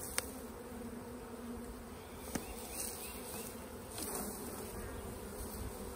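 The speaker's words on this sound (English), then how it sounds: "several bees are circling around up here, so hopefully they'll draw her back in." Honeybees from a moved swarm buzz steadily around a nuc box outdoors on a farm, a continuous low hum with a few individual bees passing close and loud now and then.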